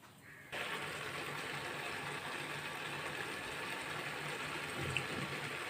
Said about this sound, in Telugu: ఇప్పుడు నీళ్ళన్నీ బబుల్స్ వచ్చి ఉడుకున్నాయి చూడండి